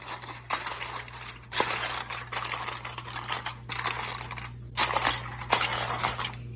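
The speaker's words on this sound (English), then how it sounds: "So what it says is to place some foil loosely over it." Aluminum foil is laid loosely over a dish, crinkling and rustling up close in several uneven bursts over a steady low hum.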